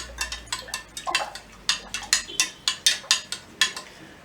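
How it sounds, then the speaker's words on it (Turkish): A spoon stirs chia seeds into a glass of lemonade, making a quick series of bright, clinking taps against the glass in an uneven rhythm, close and clear with no talking. "Şimdi iki tatlı kaşığı arkadaşlar chia tohumumuzdan koyacağız. Ve karıştırıyoruz."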